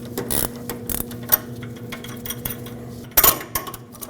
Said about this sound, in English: Now I'll remove my tool.